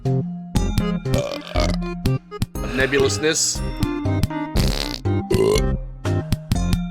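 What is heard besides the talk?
burping and farting in a farting video game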